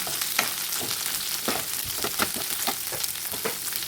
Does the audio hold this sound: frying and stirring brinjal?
yes